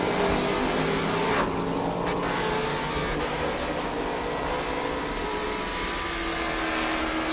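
Trans Am race cars braking into turn 1 at Watkins Glen circuit, a loud, continuous engine roar with shifting pitch as cars pass, steady and dominant with no voices.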